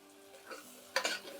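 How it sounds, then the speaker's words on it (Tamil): Onion and tomato sauté in oil in a single pot, giving a soft sizzle that ends in a brief stir and a clink of the utensil against the pot. "ஒரு தக்காளி போட்டு நல்லா வதக்கணும்"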